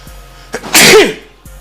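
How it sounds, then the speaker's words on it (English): A single sharp sneeze, close and loud, with a quick inhale before it and a brief explosive burst that trails off. "Gotta sneeze."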